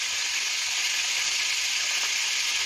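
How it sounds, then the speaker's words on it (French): Beef frying in a pan for boeuf bourguignon, a steady loud sizzle with no pauses across the short stretch, heard alone. "je commence à frire"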